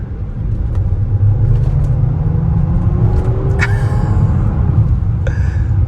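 A 2017 Bentley Bentayga SUV accelerates on light throttle, its engine a smooth, close low rumble rising gently in pitch, with a few faint clicks inside the cabin.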